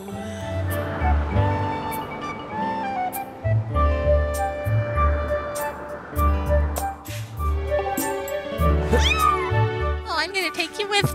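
In The Legend of Zelda: Skyward Sword, a game kitten meows among cheerful background music and game sounds, with a voice talking over much of it.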